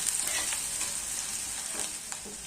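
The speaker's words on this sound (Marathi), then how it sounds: "कांद्यासोबत आपला लसूणही छान असा परतला जातो" Onion and garlic sauté in a pan, producing a continuous bright sizzle with faint stirring sounds underneath, close up and with no voices.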